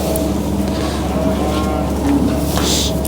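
Wagyu steers are gathered for weighing at a farm in Japan, with a low, sustained mooing heard through steady background rumble and noise.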